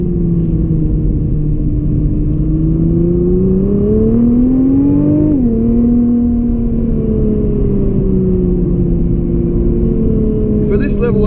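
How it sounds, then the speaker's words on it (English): A 2017 Nissan GT-R pulling hard through corners on the Great Ocean Road, heard from inside: a loud, steady engine drone rises in pitch, dips briefly at a gear change, then climbs again while someone talks over it. "It really hauls ass through the corners and in between the corners."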